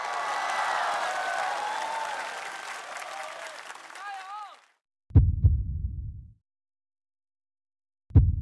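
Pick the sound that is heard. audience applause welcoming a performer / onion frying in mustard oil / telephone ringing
audience applause welcoming a performer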